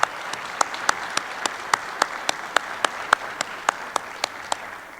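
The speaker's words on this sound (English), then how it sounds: "please join me in giving a round of applause to the award winners for Class" Applause for award winners at a US Border Patrol graduation ceremony, but heard only as a slow, steady series of sharp single claps about three per second, fairly quiet in a roomy hall with faint background murmur.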